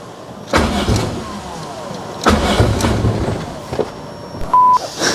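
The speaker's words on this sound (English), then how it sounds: "with the flick of the key now, it fires straight up and idles" A car engine fitted with adjustable individual throttle bodies starts up and idles, with loud bursts of firing and revving followed by steady running close by.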